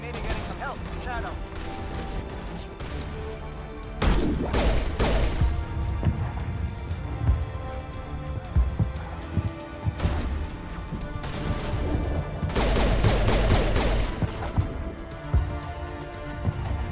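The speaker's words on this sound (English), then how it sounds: "Sounds like a lot of heavy weapons fire, what you're hearing, but you can't see anything" Heavy weapons fire in the Mass Effect video game on Virmire erupts in scattered bursts of booms and crashes, some loud and clustered, others sparser, mixed with game music and effects.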